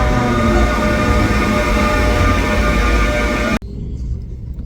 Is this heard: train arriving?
yes